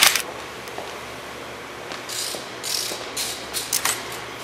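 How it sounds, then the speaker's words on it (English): Ratchet clicking while tightening handlebar bolts on a Linhai 400 Big Horn ATV during assembly, with short bursts of close metallic clicks and small clinks in a quiet room. "We just use this ratchet here, makes it a little bit easier."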